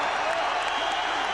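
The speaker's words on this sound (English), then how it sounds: "The crowd on its feet." A crowd in a boxing arena applauds and cheers as a heavyweight bout ends. The dense roar is steady and fills the space, with a commentator's voice faintly underneath.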